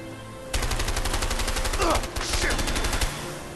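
Rapid automatic gunfire in the co-op video game A Way Out, loud and continuous bursts of shots close up for about three seconds, with a brief pause midway, under game sound.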